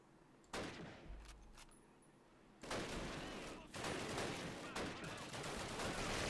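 Repeated machine-gun and rifle bursts from the 2003 Call of Duty British campaign at Bénouville, loud and sustained in sharp clustered volleys with a quieter lull before the firing intensifies.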